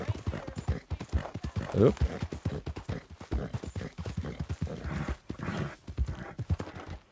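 Four-horse stagecoach team in Red Dead Redemption 2, hooves clip-clopping in a rapid, steady rhythm close by, with a brief whinny and a man's short exclamation over the trotting.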